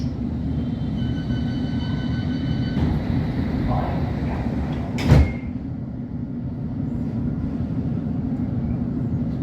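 A London Underground Metropolitan line S8 stock train runs with a steady low rumble, near and continuous, with a sharp clunk partway through and no talk.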